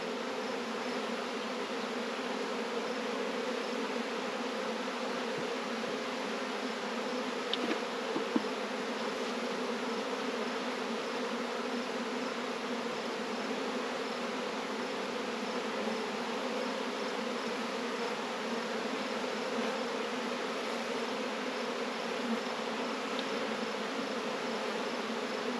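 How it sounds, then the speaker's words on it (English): Dense swarm of honey bees buzzing steadily around a hive frame during the split of a swarmy nuc into four hives, a constant close drone holding through the whole stretch with no voices. "there are so many bees on it"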